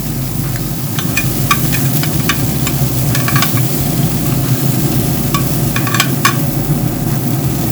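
Chicken wings sizzle steadily on a smoker at a farm cook-off, a loud continuous crackle with scattered clicks and scrapes as pieces are flipped, over a low constant hum.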